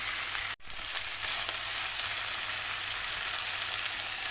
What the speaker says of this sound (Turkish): domates salçası ekliyoruz. Böylece şöyle bir 2-3 saniye kadar karıştıralım.